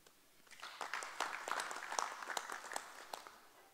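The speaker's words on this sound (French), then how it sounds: "Et cela mérite qu'on s'applaudisse nous-mêmes." Soft, distant applause from an audience at a signing ceremony between the communes of Grand-Bassam and Mohammedia, a steady patter of many hands that swells and then fades, with no talk over it.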